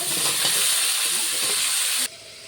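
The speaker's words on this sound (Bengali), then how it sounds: "এখন আমি আলু করলাটা দিয়ে দেবো, ভালো করে ভেজে নেব।" Potato and bitter gourd frying in a pan, a loud, dense, continuous sizzle close up that drops off sharply near the end, with no talking.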